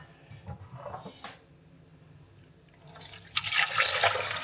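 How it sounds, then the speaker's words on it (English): Cold water poured into a big pot over raw lamb, quiet clinks and trickles at first, then a loud, steady splashing gush of running water filling the pot close by in the last second and a half. "we're going to cover it in cold water."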